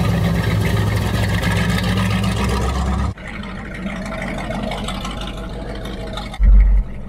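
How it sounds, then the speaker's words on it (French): A 1970 Plymouth Superbird's V8 440 with a four-speed manual roars loudly and steadily, close up, then drops to a lower drone with a brief surge near the end; no voices. "je sais pas si vous allez m'entendre avec le son que sort ce V8 440"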